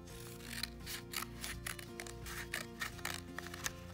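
Scissors snip steadily through a paper loom, a quick series of crisp, close cuts running throughout, with a faint hum underneath.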